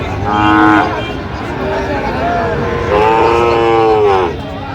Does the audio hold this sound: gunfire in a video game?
no